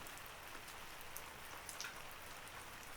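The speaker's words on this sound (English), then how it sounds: "the pitter-patter percussion of cloud water pelting her window" Steady rain patters against a window, a dense even hiss of drops with faint scattered taps. It holds constant and soft throughout, with no voices.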